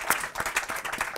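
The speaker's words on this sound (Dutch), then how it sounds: "Applaus voor Miguel ook." Applause for Miguel at a Dutch panel discussion on representation and stereotyping in school textbooks: dense, steady clapping from a small audience, close and even, with no voices over it.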